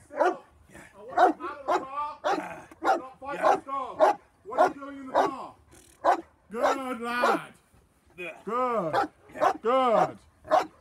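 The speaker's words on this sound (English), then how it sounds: "The dog will continue to bark at you." An 8-month-old Cane Corso barks repeatedly at a person in a car during protection training, loud close barks in irregular bursts with some whining, and a handler speaking between them.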